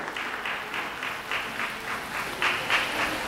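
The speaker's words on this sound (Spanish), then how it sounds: "Un fuerte aplauso para nuestra modelo que porta el traje de Almolonga." Moderate applause from an audience at a Guatemalan traditional dress presentation, greeting a model in Almolonga attire; steady clapping at a slight distance with a few louder swells.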